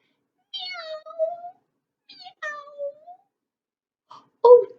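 A storyteller's voice imitates a cat meowing in a bedtime tale, giving two drawn-out, wavering meows in a row followed by a shorter, sharper third cry, close and clear against silence.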